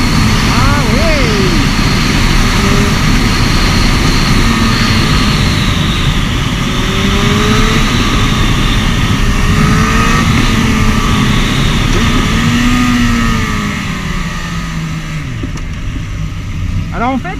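A Suzuki Bandit 1250 motorcycle engine pulls hard under acceleration through rising and falling revs, loud and close with strong wind rush, easing off toward the end.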